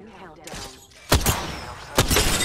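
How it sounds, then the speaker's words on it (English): Bursts of gunfire in the Apex Legends video game, a sharp loud volley and then a second burst a moment later, close and punchy over a low background of game sound. "Someone else is shooting at me"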